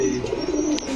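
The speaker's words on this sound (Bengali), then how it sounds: "বাবু ভাই হ্যাঁ ভাই মুজোওয়ালা জোড়া কি কবুতর এগুলা?" A single close, low pigeon coo rolls on for about a second, loud and clear with no voices.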